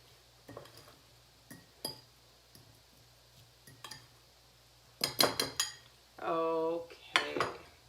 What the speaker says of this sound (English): we'll also give the guacamole a little stir, and maybe a bit of a mash at this point